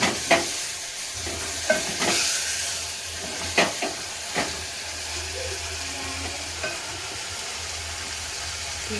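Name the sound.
stirring boiled chicken pieces in a pan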